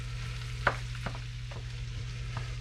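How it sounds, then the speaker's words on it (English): A side dish fries in a pan while being stirred, giving a soft continuous sizzle close by with a few light scraping stir strokes, and no talking. "So you want to keep stirring it, moving it around."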